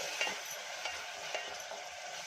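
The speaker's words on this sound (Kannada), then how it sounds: "ಈಗ ಚೆನ್ನಾಗಿ ಫ್ರೈ ಮಾಡ್ಕೊಳ್ಳೋಣ ನೋಡಿ" Onion and tomato with salt frying in a pan, a soft steady hiss with occasional faint taps of a spoon, fairly quiet and unaccompanied by speech.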